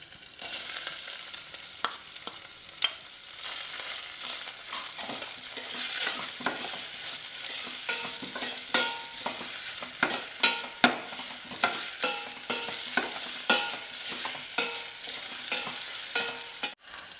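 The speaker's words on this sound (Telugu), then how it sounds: "రెండు మీడియం సైజ్ ఉల్లిపాయలు సన్నగా చాప్ చేసుకున్నది కూడా వేసి ఫ్రై చేయండి" Two medium onions, finely chopped, frying in a pan for Chinese-style chapati, with steady sizzling and repeated clinks and scrapes of a spatula stirring, close and alone without voices.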